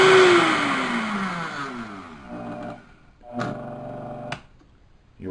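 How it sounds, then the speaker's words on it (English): A Vitamix 7500 blender is switched off after running at high speed, its whine falling and winding down, followed by a couple of mechanical clicks and a short motor burst; close and fairly loud, no speech. "once you turn the unit on, actually, and get the blade spinning here"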